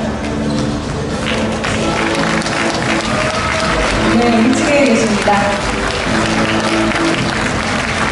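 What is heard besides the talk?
audience applause at a Rotary district conference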